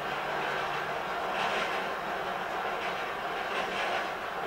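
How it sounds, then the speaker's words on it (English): A train running in the GTA V video game, a steady broadband rumble with faint rhythmic clatter that stays loud and constant throughout, with no talking. "let's look if we can bring the freaking train to a stop"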